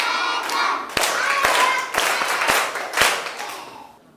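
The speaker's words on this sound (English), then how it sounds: "Clap for yourselves." Schoolchildren in a Cameroon classroom clap for themselves, a burst of lively overlapping hand claps with several sharp, evenly spaced loud claps standing out before the sound tapers off.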